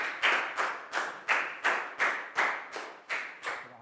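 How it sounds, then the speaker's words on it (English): A class of young students claps together in a round of applause, ten sharp even bursts in steady rhythm, close and clear with no talking. "Big round of applause."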